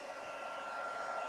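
A heat gun blowing during heat embossing of a craft piece, giving a steady, close whooshing hiss like a hair dryer that holds constant and rises slightly.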